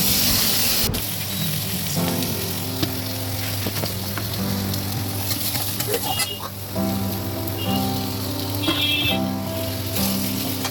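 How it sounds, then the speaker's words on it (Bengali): Bitter gourd and pumpkin frying in a pan for a home lunch, giving a steady, moderate sizzle with occasional stirring clatter and some tonal background sounds running underneath. "এই করলা কুমড়োটা ভাজছি, এটা আমাদের দুপুরের রান্না।"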